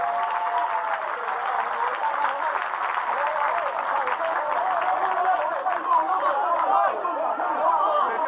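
Crowd of around a thousand at an under-20 rugby match between Fiji and Australia on a wet, cold night, a steady murmur of chatter with scattered clapping across the stands.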